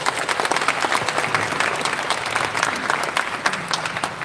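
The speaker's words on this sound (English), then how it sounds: "Let's give each one a big round of applause." An audience applauds at the launch of a management cases book, a full, steady round of clapping from many hands in a hall, continuous and fairly loud, with a few faint voices mixed in.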